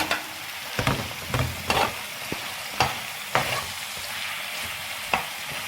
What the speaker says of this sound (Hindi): अब हम अपने टमाटर इसमें ऐड कर देंगे। ये टमाटर गए, ये हरी मिर्च कटी हुई और साबुत ये दोनों गई।